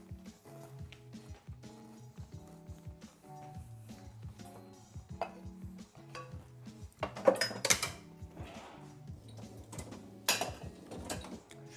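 Dishes and cutlery clink and clatter during kitchen tidying, with scattered close knocks and a couple of louder metallic rattles over a quiet tonal hum, with no talking.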